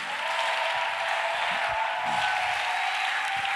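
Steady applause from a church congregation fills the room, broad and even throughout, with no voices standing out over the clapping.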